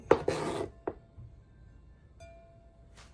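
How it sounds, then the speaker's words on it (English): A knife chops vegetables for kimchi with a few scattered, close thuds on a board, a cluster at the start and isolated strikes later, separated by quiet. "If your knife doesn't go through all the way, just chop them again."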